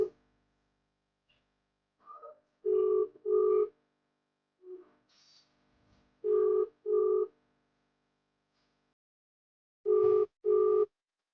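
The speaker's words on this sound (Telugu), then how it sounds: "ఆయన ఫోన్ లిఫ్ట్ చేస్తలేదు" A phone call rings out unanswered: paired tone bursts repeating in three groups with silent gaps, clear and alone.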